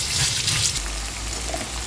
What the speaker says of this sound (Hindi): तो ये पोहा है, इसे धो लिया जाए